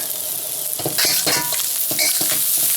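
SPAM and onions sizzle loudly in hot oil in a pan while a utensil scrapes and stirs them in several quick strokes, no voices over the frying.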